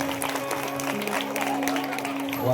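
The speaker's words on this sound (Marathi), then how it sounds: "टाळ्या वाजवा दोघांकरता पुन्हा एकदा" Scattered clapping from an audience at a devotional stage play, a dense patter of many hands at moderate volume that continues steadily throughout.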